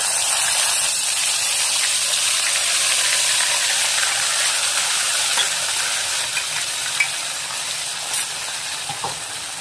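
Tomato and garlic gravy hitting hot oil tempered with asafoetida, a loud, continuous broad sizzle and hiss that eases slightly toward the end, with a few faint clinks.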